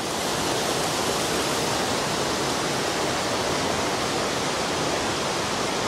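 Joren Falls in Izu roars as a continuous broadband rush of falling water with spray, a loud, steady wash that fills the whole span without voices.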